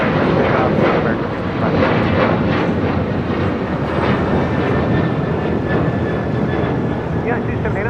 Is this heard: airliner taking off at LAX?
yes